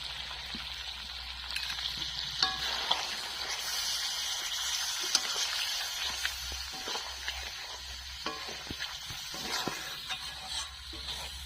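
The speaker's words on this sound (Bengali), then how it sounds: "এবার আমি পোস্ত বাটাটা ওর মধ্যে দিয়ে দেবো, জলও আমি অ্যাড করে দেবো" Poppy seed paste and water added to chicken frying in oil in a pan, giving a steady watery bubbling and sizzle with small scattered pops and clinks throughout.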